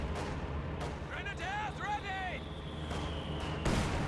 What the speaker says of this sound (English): That was a big hit from the heavy mortar